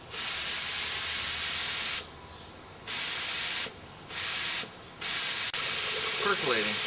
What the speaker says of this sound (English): Percolating, what it does is it backflows the lacquer thinner up into the network of piping